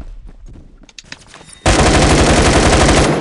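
Rapid automatic gunfire in the Roblox video game, a loud sustained burst that starts abruptly after a quieter stretch of scattered clicks and thuds, then continues steadily to the end.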